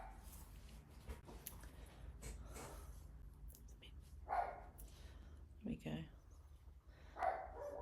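A pet dog named Alvy barks a few times, faint and distant in the background, under quiet indoor talk during a watercolour painting session.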